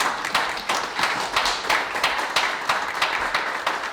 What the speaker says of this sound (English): please give yourself a round of applause for coming out